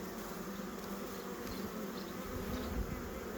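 Steady, dense buzzing of many honeybees close by at an open hive during queen introduction, a continuous low drone with no break throughout.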